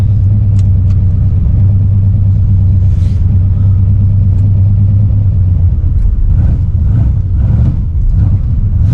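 The War Admiral street car's engine rumbles loud and steady from inside the cabin while driving, a deep droning note with a swell partway through and no talk.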